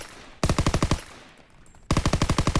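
Rapid automatic fire from a gun with a 52-round drum magazine in a Call of Duty game, two loud sustained bursts of evenly spaced shots separated by a short pause.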